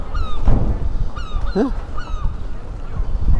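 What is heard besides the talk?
gulls calling by the seafront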